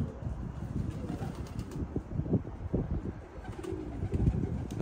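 Pigeons coo in low, soft murmurs while wings flutter and flap in short bursts nearby, a busy cluster of birds.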